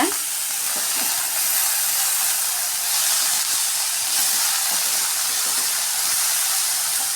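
Broad beans sautéing in a pan with salt give a loud, steady, hissing sizzle, dense and close, running unbroken from start to finish with occasional faint knocks underneath.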